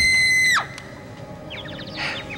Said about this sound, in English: it's enough to make you scream